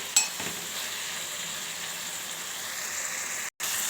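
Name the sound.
cauliflower (gobi) frying and being stirred in pan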